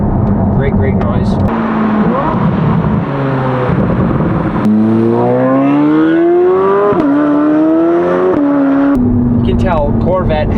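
The stock engine of a Corvette C8 Z06 revs hard, its pitch climbing and dropping through several sustained, loud surges, with a short pause between pulls.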